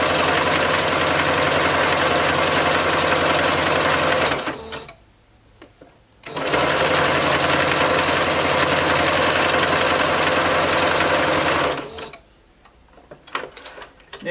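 A sewing machine stitching a seam on a bodysuit, running loud and steady in two long bursts with a brief pause between them.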